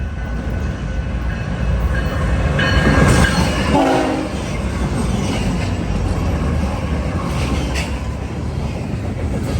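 A freight train hauled by GE Evolution locomotives, including a Canadian Pacific unit and BNSF units, rumbles loudly past at Downers Grove, with a horn blast early on over the steady roll of wheels and cars.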